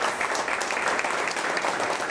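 A church congregation applauds in a steady, dense patter of many hands clapping at once, sustained and moderately loud throughout.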